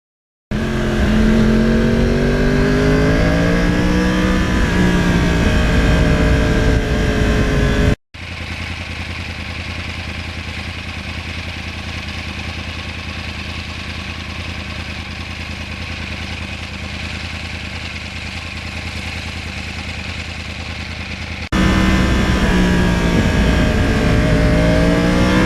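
A 2020 Yamaha R1 motorcycle engine revs and climbs loudly through the gears while riding near Lake Denmark, then drops into a steady, rushing cruise heavy with wind noise before the rising engine pitch returns.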